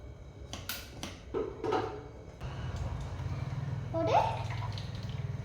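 A small amount of water is poured at home while fasting dosa batter is prepared, giving a soft, steady trickle that grows more continuous in the second half, with a faint voice briefly heard.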